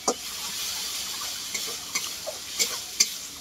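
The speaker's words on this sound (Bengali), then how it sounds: "অল্প একটু জল দিয়ে দেবো মশলাটাকে ভালো করে কষানোর জন্য।" Paste of ground cumin, coriander and dried chili with turmeric frying in a pan with a little water, hissing steadily close by while a spoon scrapes and taps the pan several times, no talking.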